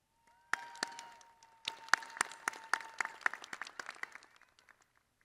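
Scattered applause for graduates at the MATC 2025 winter commencement, sparse individual claps that build into a light ripple and then thin out, with a faint steady tone underneath.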